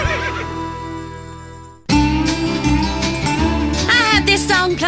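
Horse neigh effect from the K-Rose country station in GTA San Andreas: a loud, wavering whinny rises over the station's jingle music, which cuts in abruptly after a brief silence and plays on beneath it.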